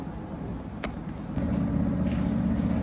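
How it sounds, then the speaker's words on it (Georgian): A car rumbles past close by, its engine noise swelling midway and holding steady to the end. "ხოდიშით მანქანა გარბის"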